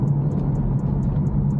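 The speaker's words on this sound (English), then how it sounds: "It changes gears so fast" BMW 340i with automatic transmission in Sport Plus, engine droning steadily with quick gear shifts blending into a continuous loud cabin hum, no speech.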